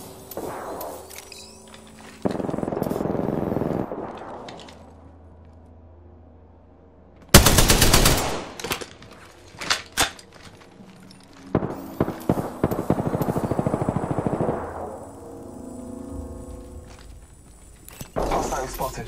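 Gunfire in Apex Legends, rapid automatic bursts mixed with footsteps and game ambience, one sharp loud volley followed by scattered shots and a longer rattle, with game voice lines around it.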